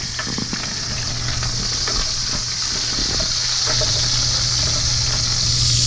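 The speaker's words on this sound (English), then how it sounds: "turn the heat down and let it simmer for 20 minutes to absorb all the shrimp taste" Shrimp and sausage paella simmers in a pan, giving off a loud, continuous sizzle and bubbling hiss that holds steady for the whole stretch, close up and with no talking.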